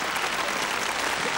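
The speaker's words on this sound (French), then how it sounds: "Alors, on l'applaudit, ces escargots." A TV studio audience applauds during the French game show L'escargot, giving dense, steady, full-room clapping that holds at an even loudness from start to finish.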